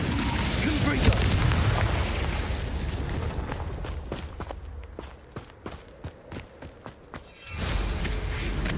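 A Confringo explosive spell in Hogwarts Legacy bursts in a heavy, rumbling boom that fades into a string of sharp clicks and light impacts, followed by a swell of ambient noise, with no talk.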